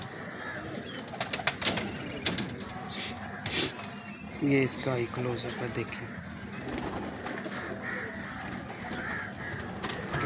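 A breeder pigeon coos in brief bursts close by, partly under steady talk from a man nearby, with other birds and background chatter around.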